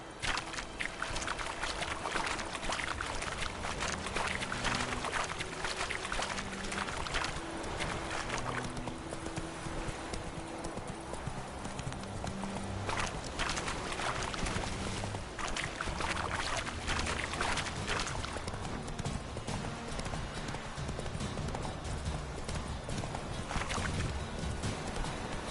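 Steady clip-clop of the horse Roach's hooves in The Witcher 3, a continuous rhythmic trot under a constant wash of ambient game sound and music.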